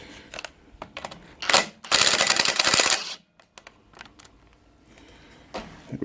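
A bracket bolt is being undone on a farm bike, with a burst of power-tool whirring in the middle amid scattered metallic clicks and handling knocks.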